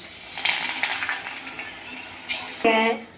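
Spinach vada batter hits hot oil and sets off a lively, crackling sizzle with bursts of bubbling and spatter. A sharp clunk near the end cuts through the frying.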